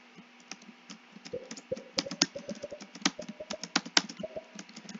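Computer keyboard keys tapped rapidly during a Roblox obby game, a dense, uneven run of close, crisp clicks that grows busier and louder toward the middle, with no talk.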